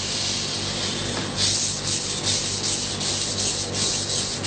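A knife blade is pushed and drawn across a wet whetstone, making a continuous gritty rasping and scraping with rhythmic strokes. Steady and close, with no talking.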